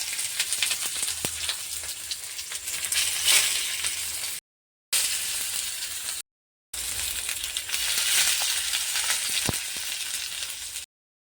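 Parcels of fish roe wrapped in pumpkin leaves fry in hot oil with a steady, loud, close sizzle and crackle, broken by two brief silent gaps, with no voices over it.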